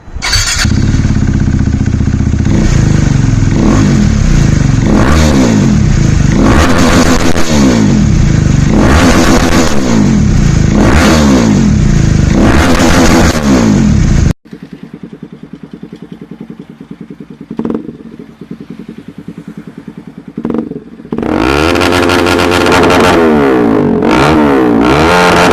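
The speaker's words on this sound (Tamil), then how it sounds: "ஸோ இந்த எக்ஸாஸ்டோட சவுண்டை கேட்டுட்டு வாங்க." A motorcycle fitted with an aftermarket first-copy steel exhaust revs loud and close with repeated rising throttle blips, drops to a rough, lumpy idle for several seconds, then roars back into hard revving.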